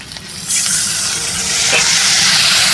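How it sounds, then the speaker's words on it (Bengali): Water splashes into a hot pan of potatoes and green chillies, a burst of steady hissing sizzle rising at once and holding loud and close to the end, with no talk over it. "এবার সামান্য জল দিয়ে ঢেকে দেব"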